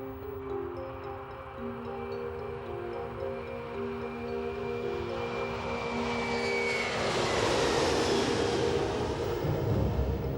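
An Airbus A330 jet, powered by General Electric CF6, Pratt & Whitney PW4168 or Rolls-Royce Trent 700 engines, gives a steady engine hum that swells into a loud, broad roar as it powers up, with no voices.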